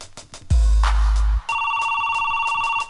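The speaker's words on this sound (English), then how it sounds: "The phone is ringing" A telephone rings inside a song, a loud electronic two-tone ring that repeats in a steady pulse after a deep bass hit, mixed with the music.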